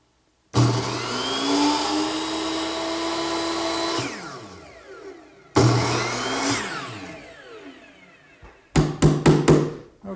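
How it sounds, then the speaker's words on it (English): A hand saw cuts wooden molding in a miter box with fast, steady rasping strokes for several seconds. It pauses, resumes, and ends with a few sharp knocks as the cut finishes. The sound is loud and close, with no talking. "I'll just take it over to my miter box, which has been set at the right angle, and this is where I'll make all my cuts"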